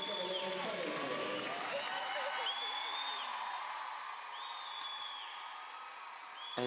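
A figure skating crowd at the Grand Prix de France pairs free skate applauds and cheers steadily, with whoops and whistles above the clapping, while a commentator talks over it.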